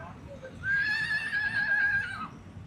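A horse whinnies in one sustained, wavering call of about a second and a half at a horse fair in Jagraon, fairly close, over low background noise.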